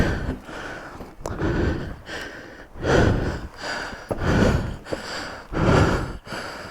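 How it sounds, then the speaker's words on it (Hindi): A rider in full riding gear breathes heavily and close to the microphone, with repeated deep, rasping inhales and exhales in a slow, uneven rhythm and no talk. "मैंने पूरा राइडिंग गियर पहना हुआ है ना, इस कारण से सांस ज़्यादा फूल रही है।"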